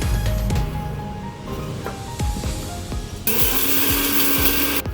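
A mixer grinder in a kitchen grinds dry-roasted whole spices, black peppercorns, cumin and coriander seeds, with a rattling, scraping clatter of hard seeds in the jar that turns into a louder, steady whirring roar toward the end.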